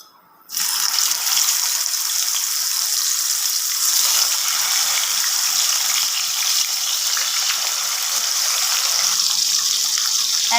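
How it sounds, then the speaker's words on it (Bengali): Koi fish fry in hot oil in a wok. A dense, bright, hissing sizzle bursts in after a brief quiet start and carries on steadily and loudly without talk. "আমি কই মাছগুলো ভেজে নেব।"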